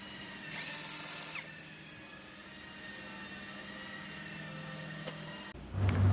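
A power tool spins out the screws on a Volkswagen 1.8 TSI EA888 engine, giving a close, steady whirring drone with one louder burst early on and a clunk near the end.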